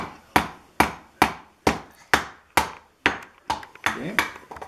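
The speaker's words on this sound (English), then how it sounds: "It's pretty hard work, that nailing," A hammer drives nails into wood while building a bird house, about ten sharp, evenly spaced blows ringing out loud and close, the last few slightly softer and busier.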